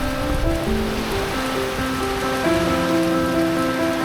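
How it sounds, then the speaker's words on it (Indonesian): Heavy rain pours steadily at a beach in Sabang, Indonesia, a dense hiss of drops on surfaces that stays constant throughout, with faint tonal sounds running underneath. "hujan deras menyambut kedatangan kami"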